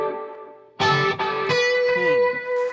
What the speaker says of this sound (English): now I've got reverb and delay